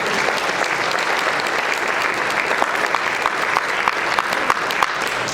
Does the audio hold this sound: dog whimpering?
no